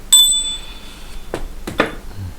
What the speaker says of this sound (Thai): เดี๋ยวจันจะสั่นกระดิ่งโชคลาภแห่งความสำเร็จ